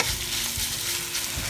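Beef stir-frying in hot oil in a pan while cooking chow mein: a steady, close, crackling sizzle with scraping stirs throughout, no voices.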